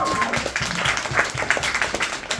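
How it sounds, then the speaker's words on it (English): A comedy club audience claps for an audience member during a stand-up set, a fairly loud burst of scattered applause with some voices mixed in. "Let's give her a round of applause."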